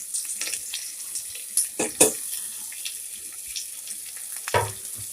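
Rice and lentils frying with chillies, cumin, chilli powder and salt for khichuri: a soft background sizzle under several sharp scrapes and clatters of a spoon stirring in the pot, close by, with no talking.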